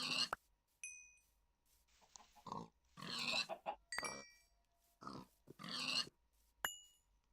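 Minecraft pigs grunt and oink in short bursts with pauses between, mixed with occasional chiming game sound effects.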